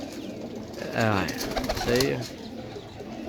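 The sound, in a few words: pigeons cooing during a 50-pigeon sale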